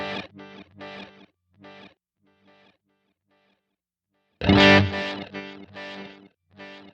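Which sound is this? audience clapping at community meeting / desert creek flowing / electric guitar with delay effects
electric guitar with delay effects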